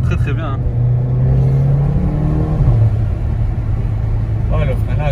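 A Mercedes CLA45 AMG drives with a steady engine drone and road rumble that dips as it brakes, with voices talking over it.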